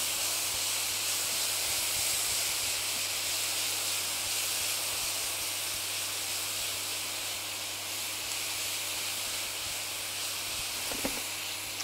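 Fruit added to hot caramel and stirred in a pan, giving a steady soft hiss and sizzle at moderate level, with a few faint clinks near the end and no talking.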